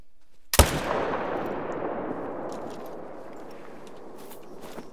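A new gun fires once in a hunting video game, a single sharp, loud shot followed by a long rolling echo that slowly fades over several seconds, with faint ambient sounds beneath.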